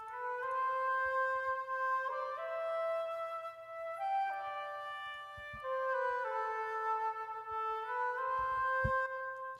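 Sampled flute from a virtual instrument library playing a game's main theme, a slow legato melody of held notes moving stepwise, close and soft over a faint low hum, without speech.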